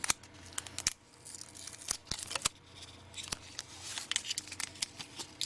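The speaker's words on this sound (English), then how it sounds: "Use a tape." Tape pulled from a roll and torn during servo motor preparation, faint crackling peel noises broken by several sharp snaps and rips close by, with small crinkles in between.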